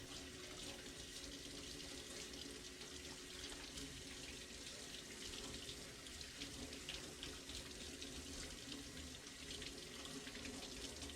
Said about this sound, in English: The unused marking compound can be washed off with just water